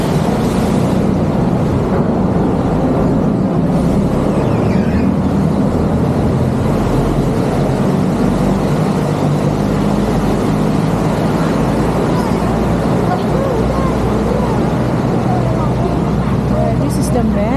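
River canal ferry boat in Bangkok, its engine a loud, continuous low rumble and churn that runs unbroken throughout, with no clear words spoken.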